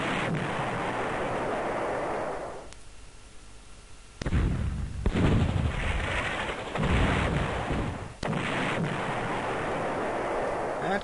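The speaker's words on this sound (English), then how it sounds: "let us attack this anti-tank gun. with our best tank." Tank firing on an anti-tank gun in the strategy game Panzer General: several loud, booming cannon blasts and explosions with rumbling decay, separated by quieter stretches.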